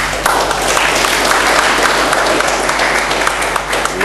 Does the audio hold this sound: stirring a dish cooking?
no